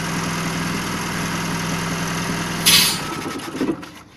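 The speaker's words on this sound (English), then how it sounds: "I detach the hose going to the intake manifold there, and the engine stop" A car engine idles with a steady, even drone, then stalls and dies abruptly after the intake manifold hose is pulled off, leaving a few brief rattles before it goes quiet.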